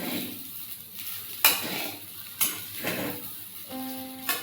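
Kande pohe with fresh coriander being stirred and mixed in a pan, with soft scraping, a light sizzle and a few sharp utensil knocks against the metal, no voices.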